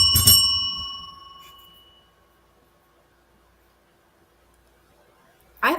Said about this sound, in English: I have a bell too.